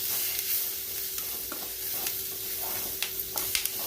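Chili powder and spices sautéing in a pan for hotel-style kara kuzhambu, a continuous soft sizzle with intermittent scraping stirs and a few sharp spoon clicks near the end.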